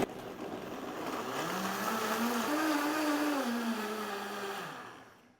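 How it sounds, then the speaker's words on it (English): A high-speed blender whirs through hemp milk with vanilla, its motor climbing to a loud steady whine with a rising and falling pitch, then cutting off abruptly after about five seconds, with no talking. "hemp milk really only takes about 20 to 30 seconds to blend up in a high-speed blender"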